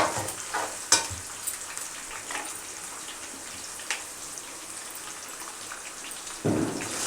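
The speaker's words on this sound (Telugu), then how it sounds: "ఉల్లిపాయ వేగింది దాంట్లోకి కరివేపాకు" Onion and curry leaves fry in a pan for a Telugu drumstick, egg and tomato curry, giving a steady soft sizzle with a few sharper crackles and a louder burst near the end.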